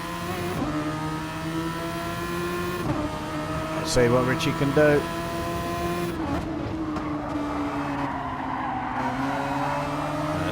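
A pack of race cars in a DRSF race, their engines droning steadily with pitch shifts as they accelerate and change gear, under continuous commentary.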